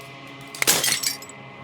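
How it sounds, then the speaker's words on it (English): Glass fragment shattering in the video game Slay the Princess: a sharp crack followed by a bright, tinkling burst of breaking shards that fades within a second over a quiet hum. "As the final fragment of glass shatters"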